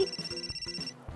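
A mobile phone rings with an incoming call, a repeating electronic ringtone pulsing in quick regular bursts, faint and indoors, stopping near the end.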